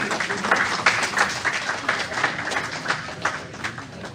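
Audience applause at the close of a leadership and teamwork event, a dense, steady wash of many hands clapping that stays fairly loud and even for a few seconds.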